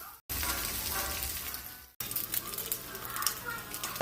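Bacon sizzling and crisping in a frying pan, a bright crackling hiss with spitting pops, cut briefly by two short gaps.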